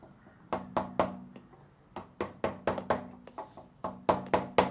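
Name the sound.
gentle tapping on a phone and camera mount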